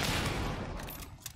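Distant gunfire in Hunt: Showdown rattles as a dense noisy burst, fading toward the end with a few faint sharper cracks.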